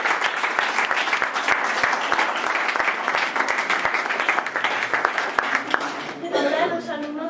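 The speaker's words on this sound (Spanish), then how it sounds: "Un gran aplauso para Uxue Barkos." A school audience applauds a visiting guest with dense, steady clapping that holds for several seconds, some individual claps standing out. Near the end it gives way to voices.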